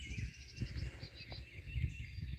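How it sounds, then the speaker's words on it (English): Birds chirp and call outdoors near Bull Shoals Lake, beside Corps of Engineers land, with steady bird song over a low rumbling background and faint insect buzz. "you can hear the bird just chirping away today"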